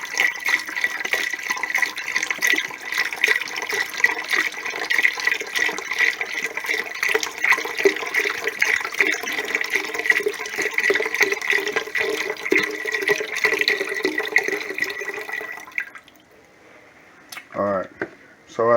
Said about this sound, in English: And now I'm adding in 1 of the cartons of chicken stock.